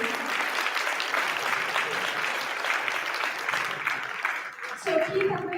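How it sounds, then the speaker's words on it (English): Audience applause at a 2019 CWAG AAP and NBPA collaboration event: dense, steady clapping from a large crowd that fills the room, thinning near the end as a voice begins to speak over it. "Ladies and gentlemen, can we give them a round of applause?"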